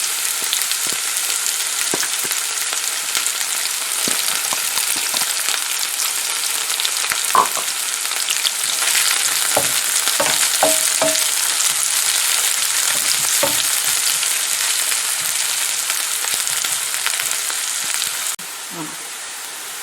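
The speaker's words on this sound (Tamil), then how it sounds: "கடுகு வடிக்க தோங்க வெங்காயத்தை போட்டு வதங்க விடுவோம்" Onions sautéing in a pan, with mustard and fennel seeds, for curry roti: a dense, continuous loud sizzle and crackle close up, with occasional stirring scrapes and knocks, easing slightly near the end, no talk.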